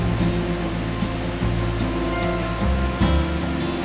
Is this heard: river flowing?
yes